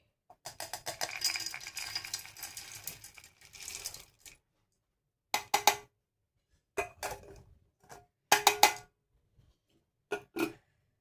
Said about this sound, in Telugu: నెక్స్ట్ వేయించి పెట్టుకున్న వేరుశనగపప్పు, సాయి శనగపప్పు, వెల్లుల్లి రెబ్బలు, ఇవి జార్లో వేసుకోవాలి